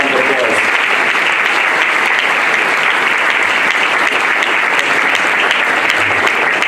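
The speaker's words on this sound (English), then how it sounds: "We'll give them both a round of applause." An audience at a mayor's State of the City speech breaks into sustained, loud applause, a dense even roar of many hands clapping with faint voices mixed in.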